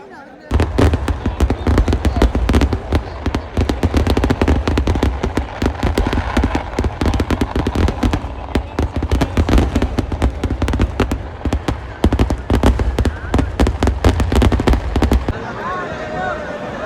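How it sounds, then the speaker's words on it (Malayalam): Dense barrage of fireworks at the Nenmara Vallangi Vela temple festival: rapid, relentless loud bangs and crackles merging into a continuous roar, then abruptly stopping to a distant rumbling hush. "മഴ കാരണം ഇപ്പോൾ തന്നെ നെന്മാറ ദേശക്കാരുടെ വെടിക്കെട്ട് കൂടി സ്റ്റാർട്ട് ചെയ്യാൻ പോവാണ്."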